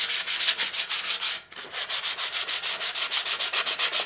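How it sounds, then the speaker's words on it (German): Sandpaper of 240 grit rubbed by hand over the bedknife of a Swardman Electra reel mower, a steady run of quick rhythmic back-and-forth scrapes with one brief pause partway, close and alone. "Jetzt habe ich hier 240er Schleifpapier. Damit schleife ich so ganz vorsichtig einmal diese Fläche über,"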